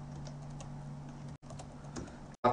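Close-up typing on a computer keyboard while entering an address into a web browser, a quick patter of light key clicks over a low hum that stops briefly twice, with no voices.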